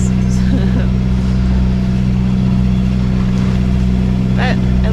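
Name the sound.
sailboat engine running while motor sailing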